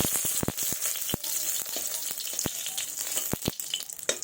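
A dried red chili and a bay leaf fry in hot mustard oil, producing a loud, steady sizzle with crackling pops and stirring scrapes close by, and no voices.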